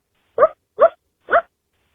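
Three short, evenly spaced barks from a female dog, close and clear against silence. The barks may be a person imitating a dog.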